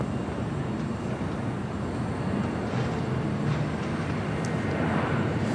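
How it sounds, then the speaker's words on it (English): A Delta Airlines Boeing 737-900ER jet departing Los Angeles International Airport makes a steady, broad engine roar that holds at an even level throughout, distant and unbroken. "That was Delta Airlines Flight 615 heading to Cancun, Mexico on that 737-900ER"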